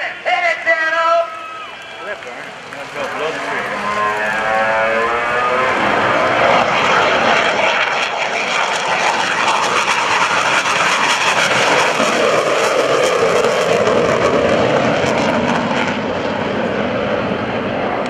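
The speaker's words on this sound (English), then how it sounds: "I present to you your United States Navy's F-18C Hornet" A US Navy F-18C Hornet jet at an airshow at NAS Oceana, its roar building fast and then holding as a loud, steady, broad jet rush for many seconds, with a doppler sweep as it approaches and an announcer's voice early on.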